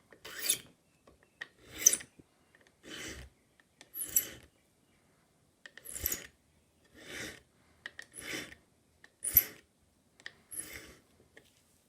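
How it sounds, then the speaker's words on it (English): A pivot file rasps across the freshly cut end of a tapered pin from a vintage English Enfield mantel clock, about a dozen short, crisp, evenly spaced strokes, close and alone. "using a pivot file, we'll first square the end where we've cut it"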